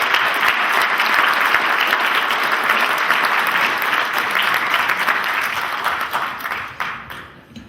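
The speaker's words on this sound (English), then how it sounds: "You can give Sean a round of applause." Audience applause for candidate Sean Keogh at a county candidates forum, a sustained roar of many hands clapping that holds steady, then thins and fades toward the end.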